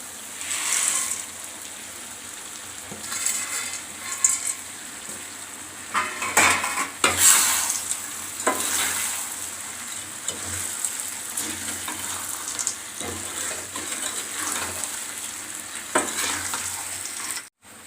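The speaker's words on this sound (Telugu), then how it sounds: "పల్లీలన్నీ వేగాయి కదా" Peanuts roast in a pan on a village-style stove, with a continuous dry rustle and sizzle and repeated scraping, clinking strokes of a spoon stirring them close up.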